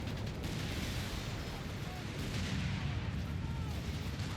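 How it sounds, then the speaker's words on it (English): Artillery in the strategy game Company of Heroes 3, during a 4v4 match on the Black Gold map, keeps up a dense, rumbling wash of blasts under steady commentary. "Artillery is focusing everything they have on the Whirlwind and the Easy 8s"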